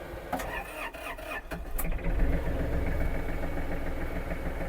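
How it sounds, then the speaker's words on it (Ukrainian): A few clicks and a short cranking rattle, then the diesel engine of an Iseki TG-333 Japanese mini tractor catches and settles into a steady, low idling rumble close by. "Завів все чудово, двигунчик працює тихенько."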